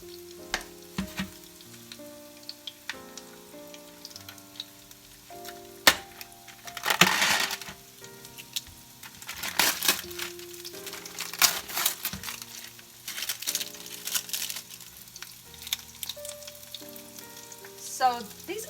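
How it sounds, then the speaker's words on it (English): Vegetarian sausages fry in a hot pan beside other breakfast food, giving a steady sizzle with bursts of crackling and crinkly rustles, plus a few clinks and scrapes against the pan throughout. "the pan for the sausages have been heating up, and I'm going to put those in"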